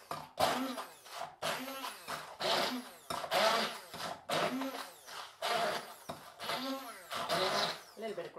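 A kitchen blender whizzes olive tapenade ingredients with CBD in repeated short bursts, a loud whirring that starts and stops roughly every second, with a voice speaking between pulses.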